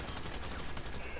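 Shotgun blasts from GTA V Online, a quick burst of rough, crackling gunfire packed into a short moment, fairly loud, with a faint voice underneath.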